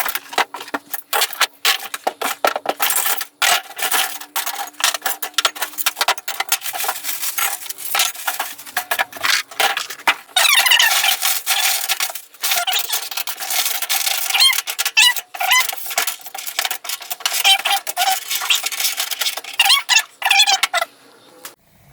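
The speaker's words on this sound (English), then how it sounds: "let's open the box and start putting it together" Cardboard box holding garden cart parts being opened, a long stretch of close scraping, tearing and rubbing with brief pauses, loud and without talk.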